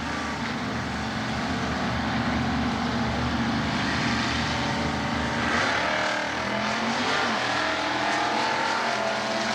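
At an NHRA stock eliminator drag race, a 1971 Pontiac Le Mans with a 455 engine and stock automatic runs against a Chevrolet Camaro, their engines roaring loud and continuous down the strip with rising revs.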